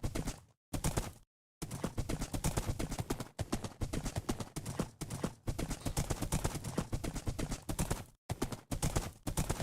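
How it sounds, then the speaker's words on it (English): Horse hooves clip-clop in Minecraft Bedrock Edition, a loud, steady rapid beat of hoofbeats running almost continuously with a few brief silent gaps, and no talking. "Okay, I like this horse."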